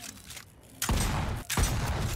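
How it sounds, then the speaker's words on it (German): Shotgun blasts fired at a door in the video game Volcanoids, two loud booming shots about three quarters of a second apart, each followed by a noisy sustained rumble. "Okay, 4 Schuss braucht man für eine Tür"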